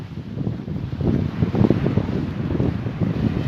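Wind blowing hard on a beach while fishing, a constant blustery rumble buffeting the microphone with gusts rising and falling, no one speaking.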